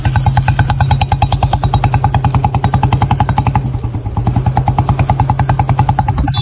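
A Royal Enfield Bullet motorcycle engine running close and loud, a steady deep thumping beat of evenly spaced exhaust pulses that dips slightly in the middle before carrying on.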